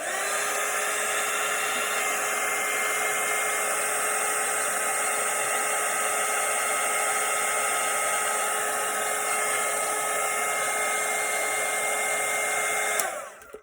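A hair dryer blows steadily on a watercolour painting of a Christmas cottage, a loud continuous whirring drone that runs unbroken for about thirteen seconds before switching off abruptly at the end.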